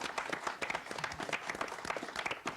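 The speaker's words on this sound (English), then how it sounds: "Let's give Skyview a round of applause." A school audience applauds the Skyview team at a scholastic tournament state final, a dense, steady round of clapping from a full room, sustained without pause.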